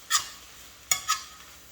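Spinach cooking in a pan is stirred in a few quick, scraping strokes, three short brushing swishes over a faint background sizzle.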